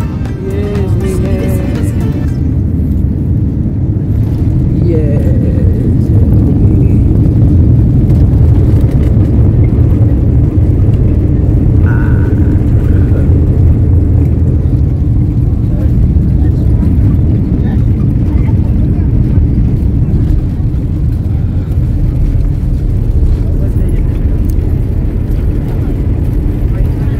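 A passenger airplane descends and lands at Abu Dhabi, heard from inside the cabin as a loud, steady roar of engines and airflow lasting throughout, with brief voices early on.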